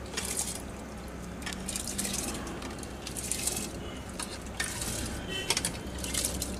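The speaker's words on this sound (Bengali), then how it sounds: "এখন ভিজিয়ে রাখা চালটা দিয়ে দেওয়া হচ্ছে।" Soaked rice going into a pot with a little refined oil for chicken biryani, heard as a steady close sizzle and wet stirring with soft pot clatter.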